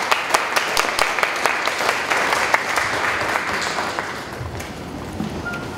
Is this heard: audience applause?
yes